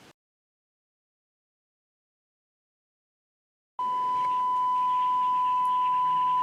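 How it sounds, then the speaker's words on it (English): A cell phone emits a steady pure test tone about a meter from a detector, starting suddenly after several seconds of silence and holding constant over faint background hiss. "that cell phone is emitting that sound"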